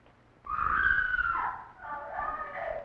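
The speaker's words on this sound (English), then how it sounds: "Why is she screaming like that?" A woman lets out a long, shrill scream that wavers and then trails into a second drawn-out wail, loud and close, from a 1931 film soundtrack.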